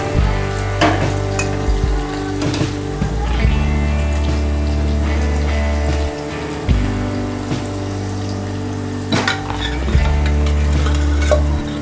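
Mustard seeds, cumin, chili and turmeric hit hot oil as a tempering for dal, giving a loud, continuous sizzle with sharp crackling bursts and stirring throughout, and no talking.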